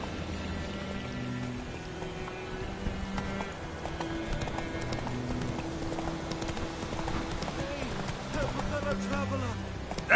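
Horse hooves gallop in a fast, continuous clip-clop in The Witcher 3 game, mixed with background music and game voices.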